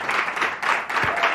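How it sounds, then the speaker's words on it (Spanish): Brief burst of studio audience applause at a Spanish television show during a stage hypnosis act, a dense steady clapping wash with no voices over it. "Un fuerte aplauso."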